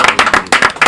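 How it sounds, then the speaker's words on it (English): A diner crowd bursts into a short, dense round of clapping for Mayor John Mitchell at a farewell gathering, many hands beating in quick, uneven bursts, close and loud. "A nice round of applause."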